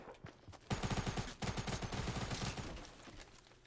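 Shotgun exchange in the Fortnite Battle Royale video game: a rapid run of loud, punchy shots packed closely together, carrying on for several seconds before tapering off, with no talk over it.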